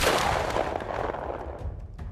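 A gunshot from a firearm in The Walking Dead: Saints & Sinners, one loud sharp blast at the start followed by a decaying rumble and faint echoes, with no talking.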